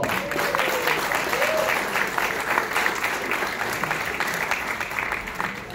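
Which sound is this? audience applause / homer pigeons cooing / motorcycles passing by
audience applause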